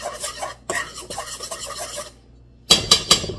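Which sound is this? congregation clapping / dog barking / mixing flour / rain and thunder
mixing flour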